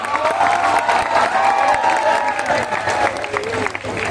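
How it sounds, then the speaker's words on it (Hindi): An audience at a university festival event applauds loudly, with crowd noise and some cheering, while a voice keeps talking over the sustained clapping. "आप सभी के लिए एक जोरदार, ढेर सारी जोरदार तालियां।"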